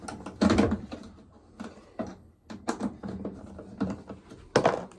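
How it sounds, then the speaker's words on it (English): Screws being removed from a Kenmore Elite appliance with an internal leak: a few sharp clicks, knocks and rattles at close range, spaced irregularly with quiet gaps between them. "I've got 5 screws to remove. Let's go ahead and pull those off."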